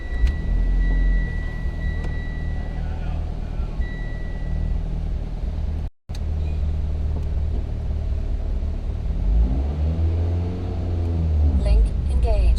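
A turbocharged car engine with a GTX3576R gen2 turbo, GSC S2 cams, upgraded valve springs and retainers on a stock bottom end, running on 93 octane, idles with a loud, steady low rumble, briefly cut, then rising slightly.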